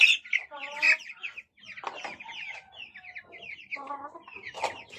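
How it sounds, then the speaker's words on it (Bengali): Colombian Light Brahma chicks cheep and cluck in quick, busy bursts of high chirps, close and lively, with no talk over them. "ব্রাহ্মা মুরগির বাচ্চা"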